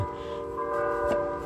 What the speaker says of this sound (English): That's kind of neat that the bells started ringing here right when we started.